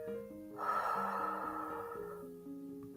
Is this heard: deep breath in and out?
yes